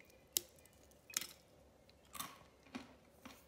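Homemade sunflower and sesame seed crackers are snapped by hand, four or five sharp, close crunchy cracks spaced out in a quiet room.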